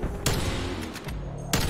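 Sniper rifle shots from the video game Black Ops Cold War crack out loudly, two sharp reports about a second and a half apart over dense game noise.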